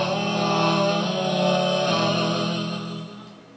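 Layered vocal harmonies with EQ, reverb and a subtle delay, a sustained chord of stacked voices that holds steady before fading into a soft echoing tail.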